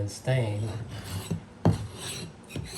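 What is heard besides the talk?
hand scraper scraping old polyurethane finish off wood floor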